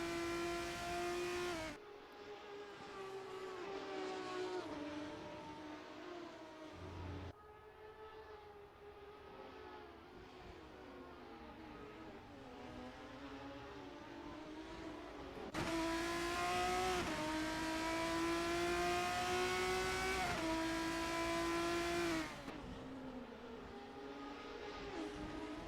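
Formula 3 race cars scream around the Imola circuit in a racing game, high-revving engines rising and dropping in pitch through gear changes, loud and continuous with several cars passing close.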